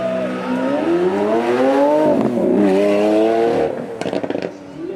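A Lamborghini supercar climbs a hill at the Beaulieu Supercar Weekend, its loud engine note rising and falling through revs and gear changes as it passes close, then fading into crowd noise.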